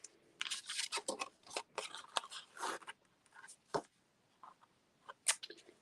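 Scissors snipping paper and ribbon at a craft table: a quick run of sharp close cuts and rustling, a pause, then a few more scattered snips, faint and up close.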